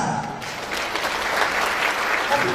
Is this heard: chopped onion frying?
no